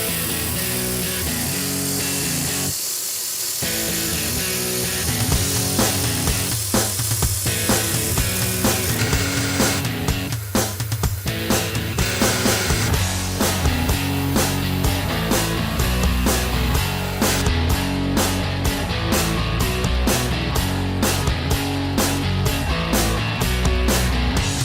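A LightWELD handheld laser welder lays down a buildup on mild steel with a steady mechanical hum. Rapid, regular clicking pulses come in and grow more prominent over time. No one talks.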